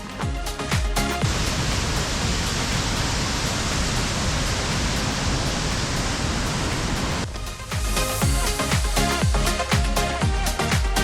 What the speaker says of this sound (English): Rain's found us again though today.